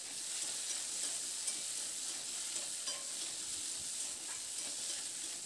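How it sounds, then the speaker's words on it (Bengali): Potatoes and eggplant fry in a pan with oil, a steady soft sizzle with occasional scraping stirs, close but fairly quiet and with no talk. "এবার আলু আর বেগুনটা দিয়ে নাড়াচাড়া করে বেশ একটু হালকা লালচে রং ধরা পর্যন্ত একটু ভেজে নেব।"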